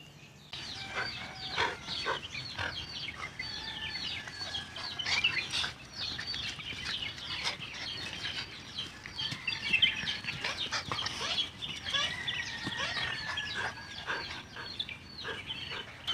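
Chickens and chicks on a village farm, a busy stream of cheeping and clucking calls repeating throughout at moderate distance, with no talk over them.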